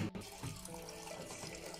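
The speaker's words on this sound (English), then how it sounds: "Let me switch the water on." Tap water running into a twin tub semi-automatic washing machine, a steady faint splashing gush with a brief knock at the start, no voices over it.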